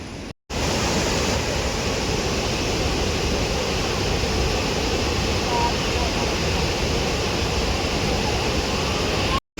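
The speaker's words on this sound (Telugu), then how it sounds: "గైస్ బాహుబలి వాటర్ ఫాల్స్ అంటారు కదా, అత్తరపల్లి వాటర్ ఫాల్స్." Athirappilly waterfall in Kerala roars with a loud, steady broadband rush of falling water, close and unbroken for nearly ten seconds, with brief gaps only at the very start and end.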